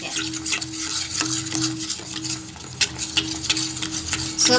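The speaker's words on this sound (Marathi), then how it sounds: "पूर्ण सारखं हलवत राहायचं, अजिबात गाठ होऊ द्यायची नाही." Gram flour cooks in ghee in a pan while being stirred nonstop with a spoon, producing steady, close scraping and soft frying crackle with no talking.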